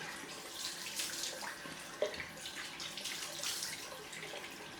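A bathroom tap runs cold water for a rinse after a wet shave, a steady, moderately loud hiss of flowing water with small splashes throughout and no talk.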